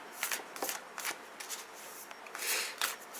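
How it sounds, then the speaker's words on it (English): Several quick riffling bursts of cards being shuffled, close and crisp, with short pauses between each pass and a longer riffle near the end. "bless this shuffling, bless this deck"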